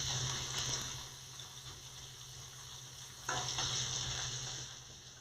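Italian-style lamb chops sizzle and char in a hot pan with a steady, moderate frying hiss, joined by a brief watery rush partway through.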